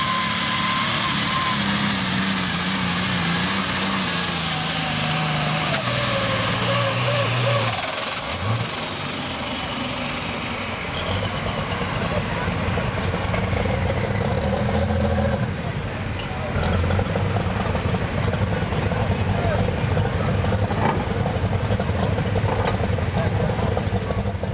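A twin-turbo pro stock pulling tractor with a 504-cubic-inch engine runs loud and steady at a tractor pull, its roar rising and shifting in pitch, while an announcer talks over it throughout.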